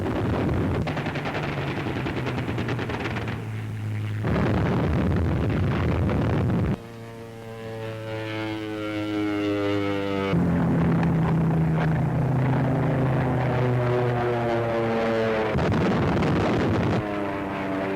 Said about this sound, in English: Hurricane fighter bombers sweep in to attack a jungle village.